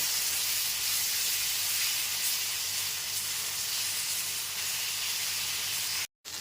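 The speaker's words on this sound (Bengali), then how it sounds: "আদা বাটাটা দিয়েও খুব ভালো মতো কষিয়ে নেব" Ginger paste sautés in a pan for a vegetarian mung dal curry, giving a loud, continuous steam-like hiss that drops out for a moment near the end.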